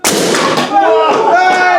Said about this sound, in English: And that, everybody, is how you launch a rocket.